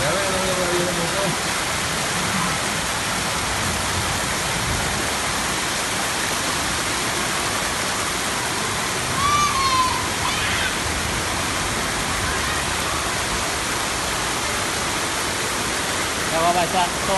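Floodwater rushes loudly and steadily through a canal during urban flooding in western Santiago, a constant churning roar with faint voices surfacing briefly beneath it.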